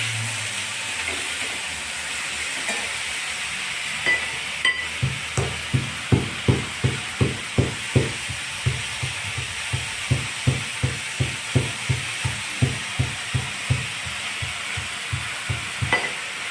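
Moth bean (matki) samosa filling with peanuts being sautéed in a pan at home, a steady sizzle underneath rhythmic scraping strokes of a spoon that repeat roughly every half second, close and clear, with no talking.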